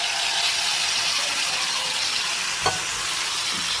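Bottle gourd goes into a pan where prawns were just fried and sizzles steadily and close, with a brief scrape of stirring near the end.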